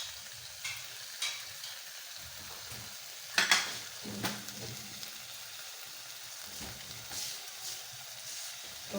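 Chicken sizzles and fries in a hot pan during the making of a panini sandwich, a steady crackling hiss with a few sharper pops and stirring scrapes, close and moderately loud, with no talking.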